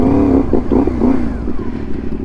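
A CFMoto 450MT adventure motorcycle engine rumbles loudly and close on a rough Mount Pinatubo trail, a steady low drone with a brief rev and some clatter.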